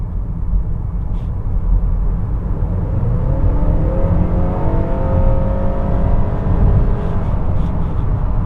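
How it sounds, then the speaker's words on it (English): A 2022 Honda Accord Hybrid pulls hard under acceleration from about 50 km/h: a steady loud cabin rumble as the electric motor drives, then rising gasoline-engine harmonics sweep upward as the engine joins in. "It gives you the full beans from the electric motor immediately. And then it does take a second for the gas motor to come in."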